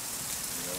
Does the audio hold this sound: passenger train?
no